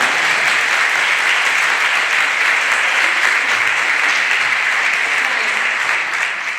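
Steady, dense audience applause fills the hall after a choir performance at a municipal auditorium, sustained and even throughout with no pauses.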